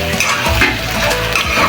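Spice paste of ground nutmeg and black pepper sizzling and being stirred in a pan while cooking beef spleen bhuna, a steady close fry with scraping stir strokes and no voices.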